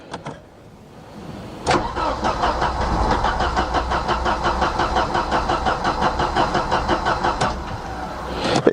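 A Mercedes 190E with an M102 engine, its fuel pump broken, cranks and catches, then runs roughly at a near, loud idle with a pulsing rhythm, with no one talking.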